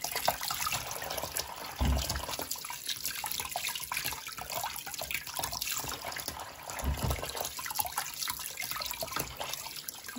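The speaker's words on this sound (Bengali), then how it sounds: "গরম জল দিয়ে ভালো করে ধুয়ে নিচ্ছি" Hot tap water running over pieces of mutton being washed in a sink, a continuous splashing, gurgling flow with occasional heavier splashes and clunks, close and steady with no talking.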